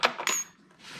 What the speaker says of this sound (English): Drill bits are falling.